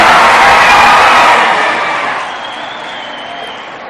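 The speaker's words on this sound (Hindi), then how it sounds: "जोरदार तालियां, जोरदार तालियां।" A large audience at an iftar party in a stadium breaks into loud, dense applause with crowd noise, strong at first and then gradually fading.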